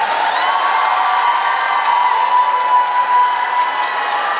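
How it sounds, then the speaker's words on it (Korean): Fans at a 1500 m race fill the venue with sustained applause and cheering. The crowd noise is dense and steady, and a faint held tone runs through it. "팬분들이 나를 향해 쳐주시는 박수는 언제 들어도 힘이 난다"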